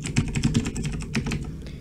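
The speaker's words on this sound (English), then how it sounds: "That's my keyboard. It actually shakes the desk when I type" Rapid typing on a computer keyboard loud enough to shake the desk, with dense clicky keystrokes in quick bursts, close to a stand-mounted microphone and heard alone.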